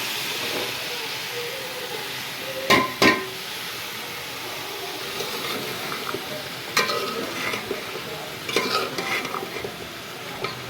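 Vegetables are stirred and sautéed in a pan seasoned with coriander powder, giving a steady low sizzle and scraping with a couple of sharp clanks of the spoon against the pan near the start, close and without speech.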